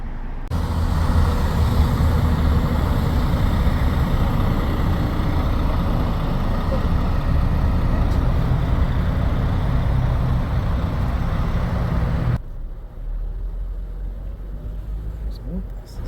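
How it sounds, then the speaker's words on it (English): Charter buses idle in McAllen, Texas, a loud, steady low diesel rumble and drone that drops away abruptly near the end, with someone talking over it. "More buses. All these buses. Charter buses."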